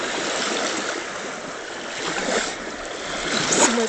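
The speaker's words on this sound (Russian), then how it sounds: "Сегодня волны большие." Large sea waves wash and surge continuously, a broad steady roar of water close by with a slight swell in loudness toward the end.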